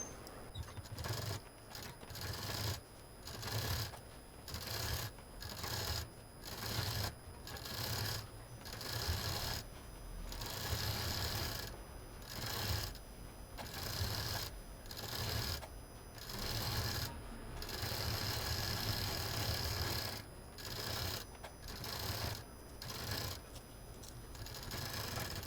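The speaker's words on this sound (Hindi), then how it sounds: "और अब इसमें हम तब मशीन चला देंगे।" A sewing machine stitching a frill on a fabric mask, running in repeated short bursts of rhythmic rattling separated by brief pauses, close and without talk.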